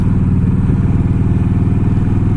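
Many motorcycles idle together at a group ride gathering in Tazewell, Virginia, making a loud, close, steady, throbbing engine rumble with fast, even pulses and no voices.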